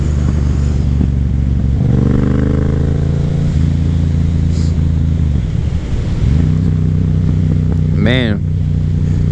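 A Yamaha FZ07 motorcycle is ridden on an autumn road, its engine droning loudly and close with rising and falling revs and a shift in pitch around the middle, plus wind rush throughout.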